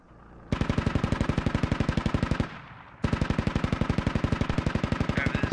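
Heavy automatic gunfire from an MTLB armoured vehicle in the video game Squad: two long, loud, rapid bursts of evenly spaced shots separated by a brief pause.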